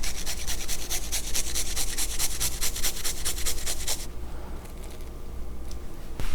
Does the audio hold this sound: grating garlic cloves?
yes